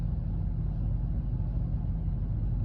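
A car engine rumbles low and steady from inside the vehicle while driving, a constant muffled drone with no talk.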